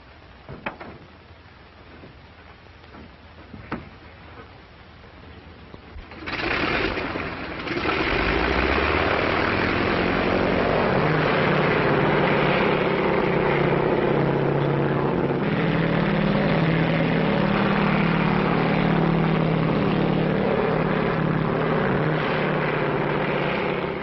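An old propeller airplane engine from around 1937 coughs into life before takeoff, then settles into a loud, steady, low idling drone that runs on for over fifteen seconds.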